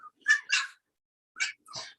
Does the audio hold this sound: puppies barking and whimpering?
yes